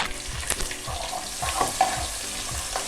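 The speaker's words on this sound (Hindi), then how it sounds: "सबसे पहले हम इसके अंदर लहसुन डालेंगे और इसको हल्का सा ब्राउन करेंगे।" Garlic and ginger frying in a pan for sarson ka saag, a close crackling sizzle with scraping stirs of a spoon at a loose rhythm.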